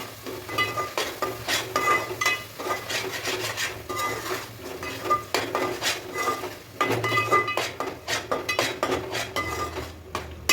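Ground masala paste being roasted in oil in a pan while a spoon scrapes and stirs, producing repeated close metallic scraping and clinking strokes in an irregular rhythm.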